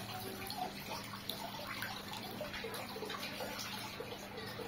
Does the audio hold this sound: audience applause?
no